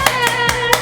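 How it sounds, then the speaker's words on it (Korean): Sharp hand claps greet an invited guest at a small talk session. Four crisp, evenly spaced claps sound close and loud, with a voice or tone running underneath. "박수로 맞아주세요"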